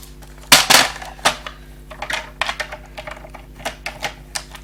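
A paper guillotine slices decorative scrapbooking paper, giving a series of sharp, close clicks and snaps with a louder cluster early on and no talk.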